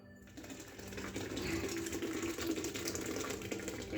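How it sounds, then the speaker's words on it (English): Aloe vera and fresh ginger juice poured into a jug, a steady splashing, trickling stream of liquid building up close by over about four seconds, with no talking. "So I'm going to pour this into the jug."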